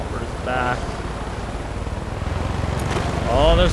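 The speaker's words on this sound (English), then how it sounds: "That chopper's back." A helicopter in the video game Far Cry 5 drones low and steady throughout, a continuous rotor rumble that swells slightly near the end, with brief game effects and a voice speaking over it.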